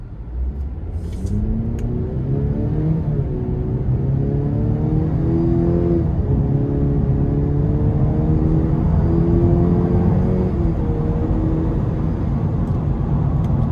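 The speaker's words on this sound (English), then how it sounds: "I'm gonna give myself some space and give this a pull getting on the interstate here momentarily." A 2026 Cadillac CT5 Sport with a 2.0-liter turbo engine accelerates hard up an interstate on-ramp, its engine note climbing steadily through several gear changes under a constant loud cabin rumble.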